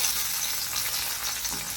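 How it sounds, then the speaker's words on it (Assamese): Fish pieces frying in hot oil in a pan, a dense, steady hiss and crackle heard close and continuous, with no voices. "এয়া এনেকৈ মাছবোৰ 2-4টাকৈ ভাজি"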